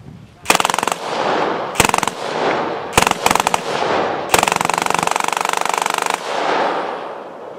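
A captured machine gun fires in loud, rapid bursts outdoors, several short strings of shots and one longer sustained burst, with a roaring echo filling the gaps between them.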